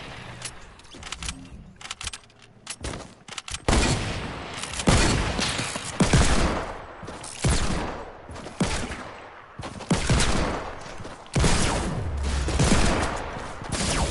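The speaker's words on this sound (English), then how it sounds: "now he's using a heavy shotgun" Heavy shotgun blasts from a video game boom out in a series of loud, separate shots, spaced a second or two apart, each followed by a brief decay.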